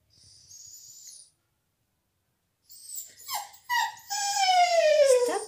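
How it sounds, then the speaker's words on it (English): A dog cries and whimpers in high, thin whines, with a brief faint whimper first, then after a pause a close, rising series of wavering cries that stretch into a long, sliding whine. "So stop crying. Do you want also to entertain the visitors, Bella"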